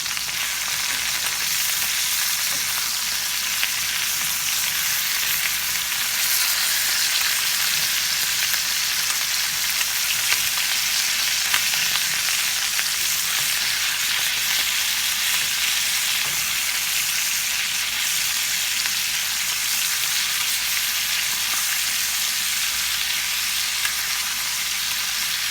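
Chicken flautas sizzle and fry steadily in a hot pan after being flipped, a dense, continuous crackle of oil that holds close and even throughout with no voices.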